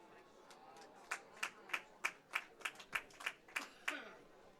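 A steady run of about a dozen single claps, evenly spaced and fairly close, with faint murmuring in the background, from the crowd at a men's curling quarterfinal at the 2019 Canada Winter Games.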